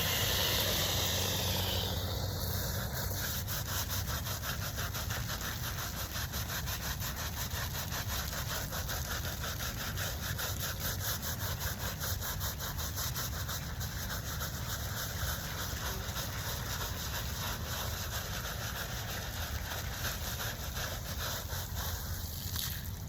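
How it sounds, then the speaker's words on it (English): A brush scrubs steadily across a headstone, the continuous rapid back-and-forth rasping close and even throughout, with no voices. "Just a couple more little scrubs here, I think."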